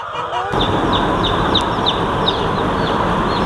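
Tiger breed chickens on a farm with a steady noisy backdrop and repeated short high honking clucks recurring throughout, fairly loud and close.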